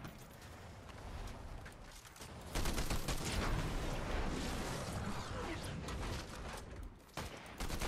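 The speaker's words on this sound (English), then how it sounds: "I'm getting shot at from somewhere else." Gunfire in Fortnite Chapter 5 Season 3: faint scattered shots at first, then a sustained loud burst of rapid fire and crackling impacts that runs to the end, with a short dip near the close.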